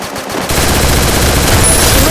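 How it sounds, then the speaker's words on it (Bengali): MP40 submachine gun fire in the Free Fire video game, a loud, dense rattling burst that starts after a brief pause and runs continuously to the end. "MP40 দিয়ে মেরে দিয়েছি।"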